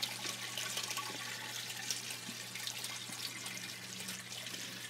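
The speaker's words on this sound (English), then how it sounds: "as you can see, water runs down the inside, nice and neat, soaking all the plants on the way down." Water trickles and patters steadily down the inside of a homemade flower tower planted with flowers, a continuous close splashing hiss with small drips, no voices.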